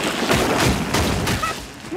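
A cartoon sandwich blaster gadget firing a rapid crackling burst of blasts, dense and loud throughout with several heavier booming hits.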